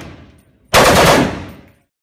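A single loud, close AK-47 rifle shot rings out with a sharp crack and a decaying echo that fades over about a second, with quiet surroundings before and after.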